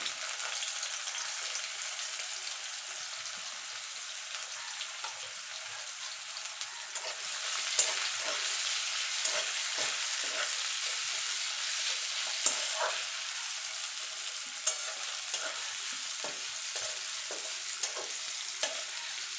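Two medium chopped onions fry in hot oil for an eggplant bharta, giving a steady, bright sizzle throughout, punctuated by occasional sharp spatter pops and stirring clicks.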